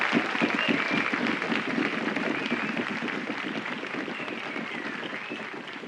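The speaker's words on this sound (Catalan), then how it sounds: "Jo crec que es mereixen un grandíssim aplaudiment." An audience at the Festa Major opening proclamation in Sant Feliu de Guíxols gives a sustained burst of dense applause, loud and even before tapering slightly toward the end.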